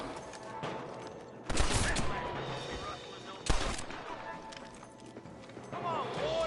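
Gunshots in the Red Dead Redemption video game, with two loud bursts of fire standing out above a busy game soundscape of hoofbeats and movement. Spoken voices run throughout the scene.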